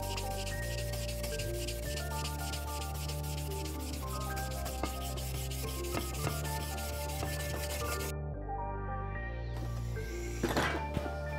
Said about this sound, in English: I'm gonna take a hand pad to this, get a little more consistent look out of it